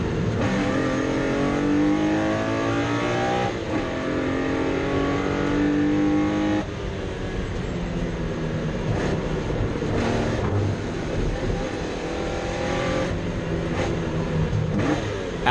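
Porsche 964 race car duelling a TVR at Brands Hatch, engines revving hard with rising and falling gear-change tones, a few shifts and sharp bursts, loud and close throughout.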